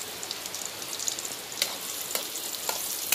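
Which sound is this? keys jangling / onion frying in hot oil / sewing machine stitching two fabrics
onion frying in hot oil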